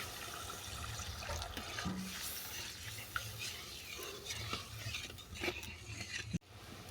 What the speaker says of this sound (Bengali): এরপর দেবো পরিমাণে জল।